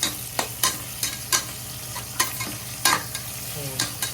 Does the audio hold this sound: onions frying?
yes